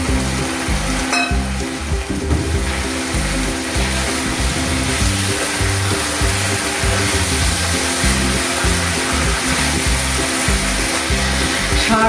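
Whole fish fry in a pan of oil with poppy seed, giving a loud, constant close-up sizzle that runs unbroken for about twelve seconds with no voices.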